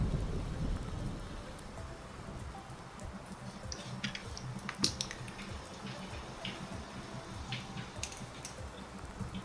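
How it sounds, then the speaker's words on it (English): Heavy rain pours steadily outside an open door, a dense continuous hiss with scattered louder drips and splashes nearby, no talking over it. "Wow, it's raining a lot outside, holy shit."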